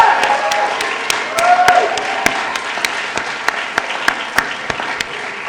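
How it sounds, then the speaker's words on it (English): An audience at an awards night applauds in a full, sustained round of clapping. A few sharp, close individual claps stand out above the crowd, and faint voices sit underneath. "So a massive round of applause for you."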